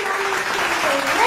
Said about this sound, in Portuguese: palmas para a Vandinha.